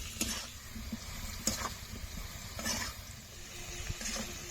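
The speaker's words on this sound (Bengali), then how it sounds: "এবার ভালো করে কষে নেব।" Taro pieces with prawns frying in a pan, a soft continuous sizzle under intermittent stirring scrapes of a spatula, close and fairly quiet.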